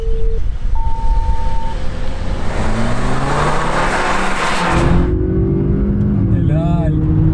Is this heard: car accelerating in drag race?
yes